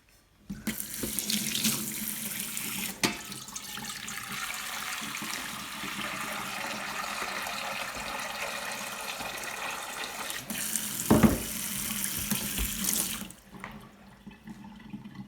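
Tap water running steadily into a saucepan, a continuous splashing rush lasting over ten seconds with a brief clatter near the end before it stops.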